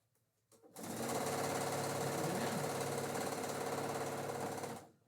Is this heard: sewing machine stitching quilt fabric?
yes